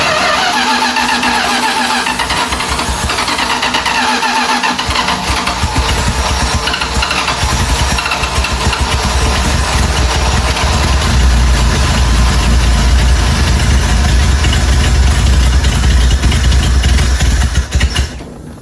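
A neglected 1978 Dodge D150 pickup, left sitting for 20 years, has its engine cranked until it catches, then idles loudly and roughly for a long stretch before it cuts off abruptly at the end.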